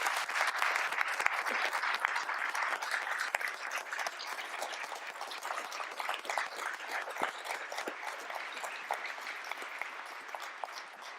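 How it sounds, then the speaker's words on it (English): Inside the Philadelphia City Council chamber, an audience gives veterans a sustained round of applause, dense crisp clapping that stays steady for over ten seconds. "How about a round of applause for our fellow veterans?"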